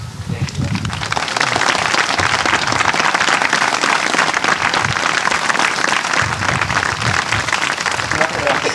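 An assembled audience at the final day of an India tour in Bordi, 1985, claps in a thick, sustained wash of applause, loud and steady like heavy rain, with a few voices and murmurs underneath.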